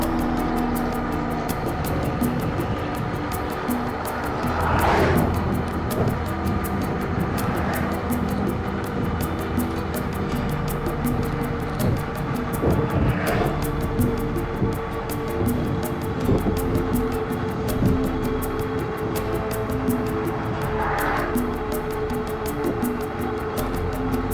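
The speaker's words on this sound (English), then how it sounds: "Airplane gone over. We're real close to the airport right now." Airplane passing overhead close to an airport in a residential area, a broad rumbling roar heard from inside a moving vehicle, mixed with road and wind noise that stays steady throughout.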